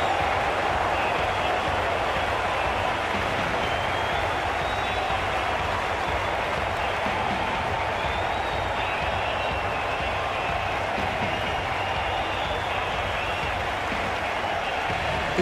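The stadium crowd in Cricket 22 applauds during an England versus Australia match, a steady, even roar of clapping from a large distant crowd that holds at the same level without any clear talk.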